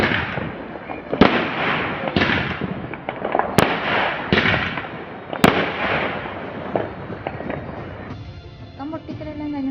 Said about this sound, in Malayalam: 12 മണിയായപ്പോൾ നമ്മൾ പടക്കം പൊട്ടിക്കൽ സ്റ്റാർട്ട് ചെയ്തിട്ടുണ്ട്